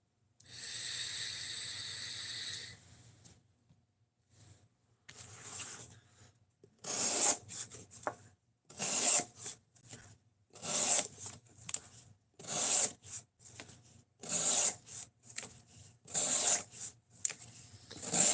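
Rhythmic rasping strokes of an S90V steel blade edge on a Benchmade Mini Bedlam knife being sharpened, a steady series of short scraping passes repeating about once a second, close and fairly loud, after a brief hum at the start.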